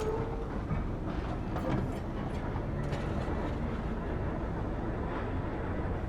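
In the video game Cronos: The New Dawn, a tram rolls along with a continuous heavy rumble and faint rhythmic clatter that stays steady and close throughout.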